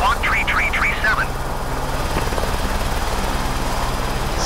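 Helicopter in flight over St. Petersburg, Russia, a steady loud rotor and engine drone filling the cabin throughout, with a brief radio voice transmission at the start.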